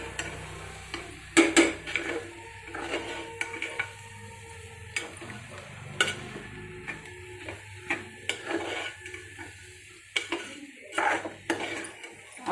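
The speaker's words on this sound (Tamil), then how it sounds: "சேர்த்துட்டு ஒரு முறை நல்லா கலக்கி விட்டுறலாம்" Spatula scraping and clinking against a pan as a capsicum and egg stir-fry seasoned with pepper is stirred, in irregular close bursts with a faint sizzle underneath.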